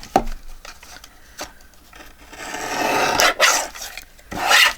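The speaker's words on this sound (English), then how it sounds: "now I'm going to trim off a little bit here" Paper is trimmed at a craft desk while making journal ephemera, with a few light taps and then rasping cutting strokes in two bursts, close and fairly loud, with no talking.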